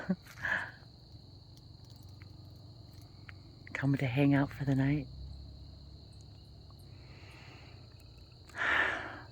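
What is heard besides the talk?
crickets and frogs chirping at night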